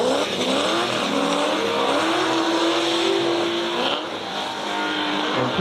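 A drift car at a prairie drifting event finishes its lap, its engine droning loud and steady with rising and falling revs and a thin tire squeal over the whole stretch.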